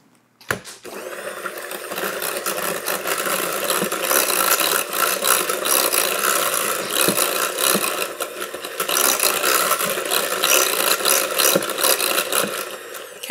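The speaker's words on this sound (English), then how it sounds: "we're gonna give it a mix with the electric mixer here." An electric mixer whirs steadily and close by as it beats pumpkin muffin batter, starting with a sharp click and then holding a loud, continuous buzz with small shifts in pitch.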